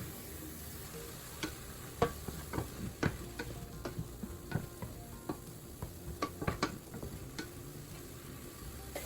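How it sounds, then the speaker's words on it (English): Vegetables and mushrooms cooking down in a pan give a soft, faint sizzle, broken by scattered utensil clicks and taps, with no talking. "I want to make sure I get these mushrooms cooked down as much as possible."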